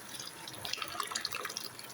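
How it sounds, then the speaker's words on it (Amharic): Boiling water is poured into a pot of rice as it cooks, a soft continuous splashing and bubbling heard close up with no voices. "ውሃ ጨመርኩበት። የፈላ ውሃ"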